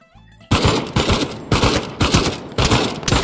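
AK rifle gunfire in the VR shooter Pavlov, loud close automatic bursts in about five rapid clusters with a brief lull between each, following a short quiet lead-in.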